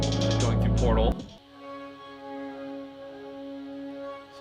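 A vocal processed through the Portal plugin turns into a deep, warbling, watery growl, with a dense processed burst at first, then a low droning tone that sustains and wavers beneath.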